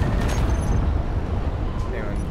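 A hydrogen tank explodes aboard a ship in Space Engineers, giving a deep, rumbling boom that holds for a couple of seconds under a voice.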